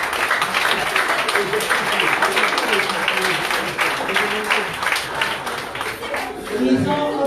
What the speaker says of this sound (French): Je vous demande de les applaudir dès à présent.